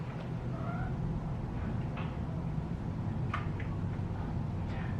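Several cats meow in short, faint calls scattered over a steady low indoor hum, with no talking.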